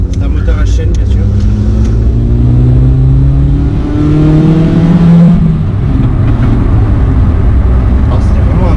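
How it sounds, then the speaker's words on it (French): A 16-valve chain-driven engine in a budget convertible car revving loudly through its exhaust line, close and throaty with rising and falling pitch sweeps, while someone talks over it. "Alors avec la ligne bien sûr ça fait vraiment ressortir le 16 soupape."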